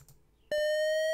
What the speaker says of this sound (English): Oh, no, there's an alarm.